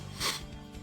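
A single quick sneeze, brief and fairly close, with no talk over it.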